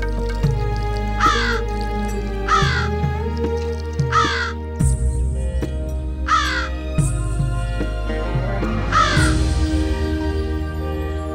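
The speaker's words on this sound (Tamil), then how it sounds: "வீட்டு வெளியே ஒரு காக்கா நின்னு காக்காக்கான்னு கத்திக்கிட்டே இருக்கு." A crow caws again and again outside a house, with loud repeated calls at a steady rhythm and no other sound in the background.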